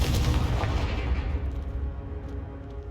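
Confringo fire spell from Hogwarts Legacy bursts in a deep booming blast that rumbles and fades over a few seconds, heavy and full in the low end with no speech.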